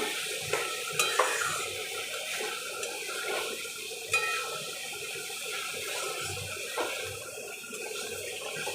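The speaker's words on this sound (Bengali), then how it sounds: "দিয়ে এবার আলুটা একটু কষিয়ে নিয়ে" Potatoes with spices and ground coriander being sautéed in a pan give a soft steady sizzle, with occasional light scrapes and taps of a stirring utensil, close and fairly quiet.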